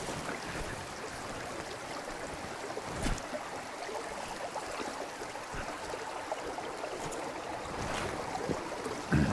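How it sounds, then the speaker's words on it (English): A small creek flows steadily about ten metres from a high country mountain hut, making a continuous, even rush of water with no voices, at moderate to faint level throughout. "There's a little creek literally 10 metres from the hut, not even that."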